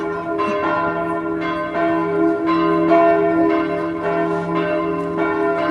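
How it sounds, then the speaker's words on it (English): Church bells ring in Palma de Mallorca, Spain, loud and near in steady repeated strikes about once a second, their long metallic tones overlapping and sustaining between hits. "I don't know if you can still hear me with the sound of the bells actually"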